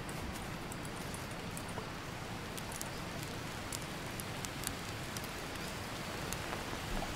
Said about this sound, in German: Ha, es regnet wieder.